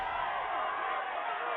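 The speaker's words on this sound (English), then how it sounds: "Miss of Sandworth finishes off her opponent with a little flourish, which the crowd seems to enjoy." An arena crowd in the video game Crown Champion roars and cheers in a steady, continuous wash of voices, moderately loud throughout.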